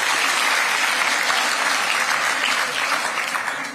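SNP supporters in a debate audience applaud loudly: a dense, sustained roar of many hands clapping that holds steady and then thins slightly toward the end.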